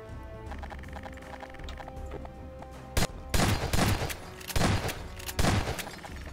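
Gunfire in the Garry's Mod video game bursts out in loud, sharp volleys of several rapid shots, separated by short gaps over a steady background hum.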